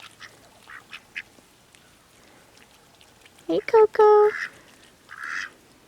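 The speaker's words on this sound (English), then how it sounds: "Ducks are over here playing in the mud." Ducks quacking while playing in mud in a spring garden, a loud burst of several quacks midway and again near the end, with a person speaking briefly.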